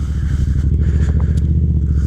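A Yamaha FZ07 motorcycle engine rumbles steadily up close, a deep throbbing idle-to-rev sound as it pulls away, with no one talking.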